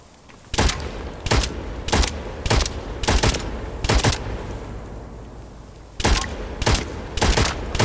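Repeated bursts of video game gunfire in Witchfire, loud and close, coming in regular rapid volleys with a short pause midway, no talking.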